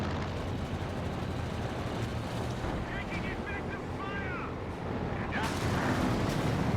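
A Company of Heroes 2 bombing run in a match against Axis Stukas brings continuous rumbling battle noise and booming blasts, with one sharper burst near the end, heard beneath commentators talking.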